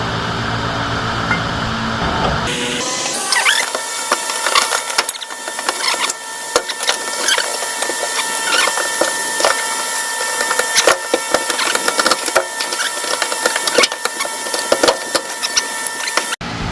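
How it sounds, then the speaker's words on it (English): A part is pried off a Nissan 350Z drift car with a pry bar, producing close, loud cracking, creaking and splintering snaps in irregular bursts over continuous strain. "after continuous prying, I got it up"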